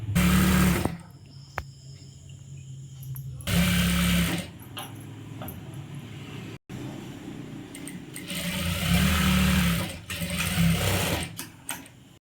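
A sewing machine stitches churidhar body and skirt pieces together in several loud bursts of rapid whirring, separated by quieter pauses with faint handling noise.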